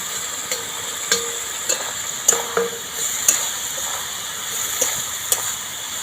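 Soaked soybean chunks are stirred into sizzling masala in a pan, a steady fry beneath regular spoon scrapes and knocks roughly every half second, near and clear, with no voices.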